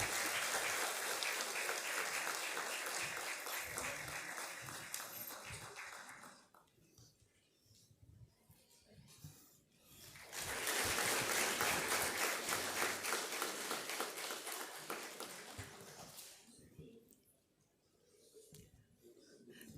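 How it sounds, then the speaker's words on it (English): A conference audience breaks into two bursts of loud, steady applause, each lasting several seconds and separated by a quiet gap with low murmuring, the second burst tapering off before a brief final swell. "Can we have a big round of applause once again?"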